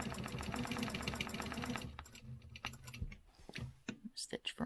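A sewing machine stitches a quilt, running in a fast, steady mechanical patter for about two seconds, then stopping into scattered clicks and handling noises close by.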